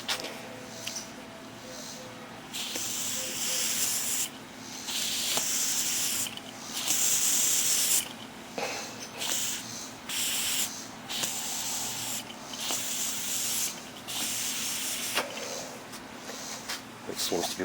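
Breath blown through a hose into a Scrambler 90 motorcycle carburetor makes repeated breathy hissing bursts, each a few seconds long, separated by short pauses, close and moderately loud.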